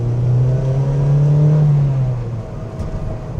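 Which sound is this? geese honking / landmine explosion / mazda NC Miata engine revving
mazda NC Miata engine revving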